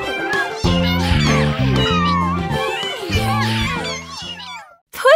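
Repeated high cartoon cat meows ring out over a bouncy nursery-rhyme tune with steady bass notes, the mewing calls scattered through the music from an animated children's song.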